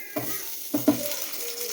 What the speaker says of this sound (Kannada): ಅದನ್ನೆಲ್ಲ ಹಾಕ್ಕೊಂಡು ಫ್ರೈ ಮಾಡ್ಕೊಳ್ತಾ ಇದ್ದೀನಿ